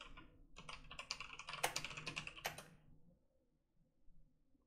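Quick bursts of typing on a computer keyboard as a file name is entered, with irregular clustered key clicks for a few seconds and then near silence.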